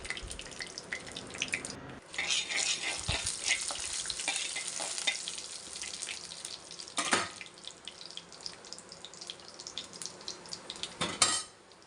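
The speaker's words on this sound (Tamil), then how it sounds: "வரமிளகா கருவேப்பிலை சேர்த்து நல்லா பொரிய விட்டுடலாம்" Dried red chillies and curry leaves frying in oil for beef chukka, a quiet continuous crackle with occasional clinks of a utensil against the pan.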